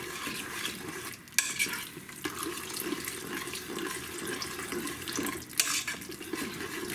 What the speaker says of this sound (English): But you want to constantly stir.